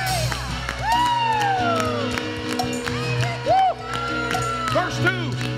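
A church congregation shouts and cheers in praise during a worship service, loud mixed voices and whoops rising over sustained organ or keyboard chords and music throughout.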